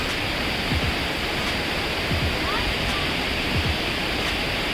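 Heavy monsoon waterfall in Munnar, a loud, continuous, close roar of rushing water that holds steady throughout.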